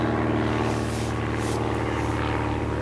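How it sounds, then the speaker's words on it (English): A light propeller aircraft drones overhead above a fishing lake, its steady engine hum loud and continuous with harmonic tones, swelling slightly as it passes, with no talk. "it's a light aircraft just come over"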